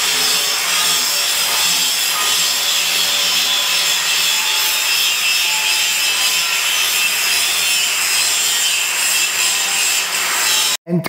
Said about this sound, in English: I am debarring a flywheel because, as you can see, when we receive the pieces from the foundry, they are not perfect.